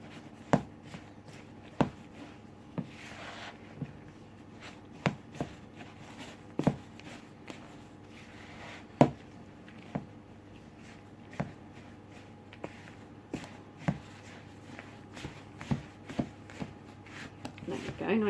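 A spoon works through stiff oaty currant cookie dough after flour goes in, giving a run of soft, irregular scrapes and knocks against the bowl at close range.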